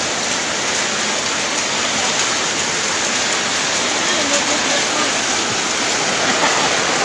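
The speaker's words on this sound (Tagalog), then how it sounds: "sobrang lakas ng ulan" Heavy typhoon rain pours down in a dense, constant hiss, loud and unbroken throughout with no pauses.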